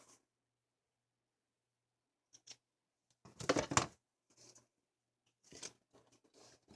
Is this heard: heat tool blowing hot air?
no